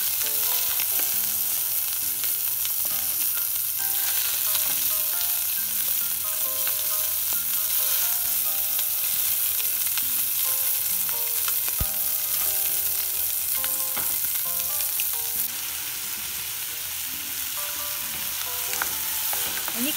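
Chicken drumettes pan-fry slowly with a continuous, even sizzle and crackle, close and steady, with occasional soft clinks and taps and no talking.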